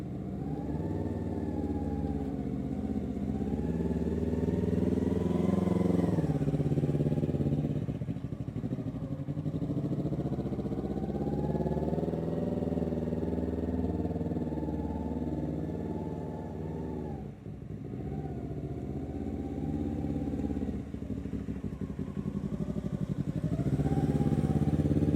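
Motorcycle engine droning steadily nearby during a riding lesson, its pitch rising and falling as the bike rides and turns, with a brief dip in the middle and no talking.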